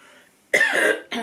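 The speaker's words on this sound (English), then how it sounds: "Excuse me, sorry for coughing." Two sharp, close coughs, a long one followed by a shorter one, after a brief quiet moment.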